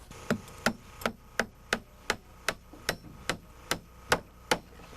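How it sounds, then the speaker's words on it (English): A small hammer nailing off a wooden floor by hand, with about a dozen sharp, evenly spaced strikes landing roughly every third of a second, close and clear over a quiet background. "it's nice to have help when you're nailing off a floor by hand. The small hammer works"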